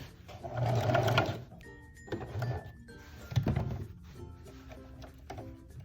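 A sewing machine stitches a mini dress bodice in short runs, with pauses for pivoting and clunks of the presser foot and handling between bursts, heard up close with no talking.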